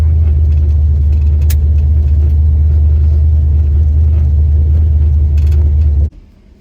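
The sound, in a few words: drag race car engine running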